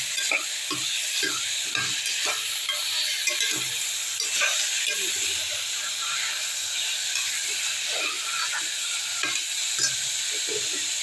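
Food being stirred and sautéed in a pan on a home stove, with a steady bright sizzle and hiss and a few soft scrapes of a spoon throughout, heard close and without talk.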